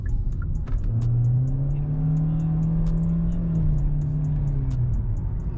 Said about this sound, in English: the engine actually wakes up a bit